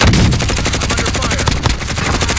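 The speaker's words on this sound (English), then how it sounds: "Try to shoot him." Rapid automatic gunfire in the Warzone video game, a loud close burst of dense rhythmic shots rattling continuously, with a few heavier individual reports mixed in.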